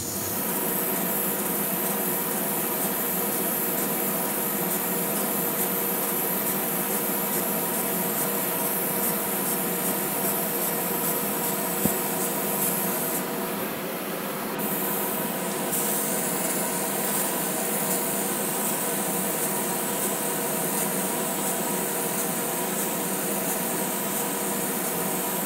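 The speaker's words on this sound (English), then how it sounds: "I just thought I'd show you using an airbrush." An airbrush sprays paint in a continuous close hiss that holds steady for a long stretch with only a brief dip, and no one speaks.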